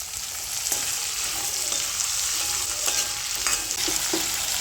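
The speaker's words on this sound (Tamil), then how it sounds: "வெங்காயம் நல்லா வதங்கட்டும்." Onions sauté in a pan for garlic kuzhambu, a loud, continuous sizzle up close with occasional soft scrapes and taps of a spoon stirring, and no voices.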